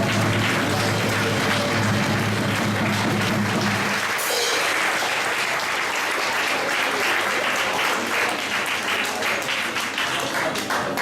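A crowd at a high school prize-giving ceremony claps steadily throughout, loud and dense applause that shifts slightly in tone partway through without stopping.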